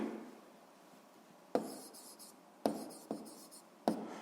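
A pen scratches across paper while a physics exercise is written out. The strokes are close and scratchy, some short and some drawn out, with brief pauses between them.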